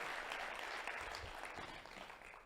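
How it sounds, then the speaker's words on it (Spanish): A panel audience at a civil-society forum greets a speaker with a brief burst of applause, heard faint and distant as a soft, even patter that fades away. "Lo recibimos también con un fuerte aplauso."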